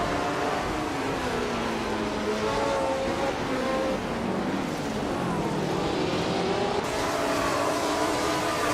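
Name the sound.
1963 Brabham race car engine in a race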